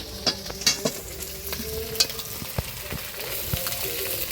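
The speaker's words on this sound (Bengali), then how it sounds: "কাতলা মাছের তেলটা পেঁয়াজ দিয়ে ভাজা হয়ে গেছে, এবার তুলে নিব।" Sliced onions sizzle in hot katla fish oil in a pan and are stirred, with a soft steady fry broken by sharp spoon scrapes and clinks at irregular intervals, close up and with no talking.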